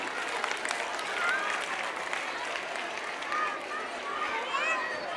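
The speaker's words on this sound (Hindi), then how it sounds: "इस्तकबाल के लिए तालियां बजाते रहिए।" Continuous clapping from an audience at a school annual function, steady crowd applause with some voices and faint tonal sounds over it.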